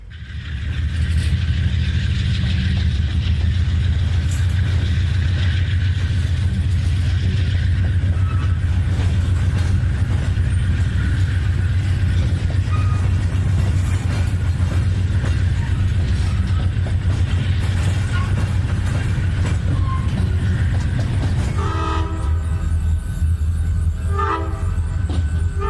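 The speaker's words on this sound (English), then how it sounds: "A 3-unit train of empty coal cars comes off the branch." A three-locomotive train of empty coal cars rolls off a branch line near the Ohio River at Carrollton, Kentucky, a steady loud diesel drone with clanking car noise and a horn sounding throughout, continuous and close.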